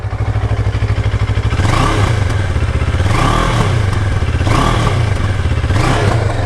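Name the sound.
CF Moto 650 NK parallel twin motorcycle engine running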